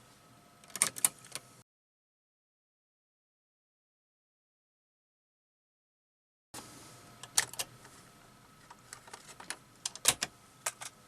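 Cassette tape being loaded into an Akai GXC-39D cassette deck: sharp plastic clicks and clunks of the door and mechanism, a cluster of taps, then a long silent gap before more clicks and snaps, close and fairly quiet.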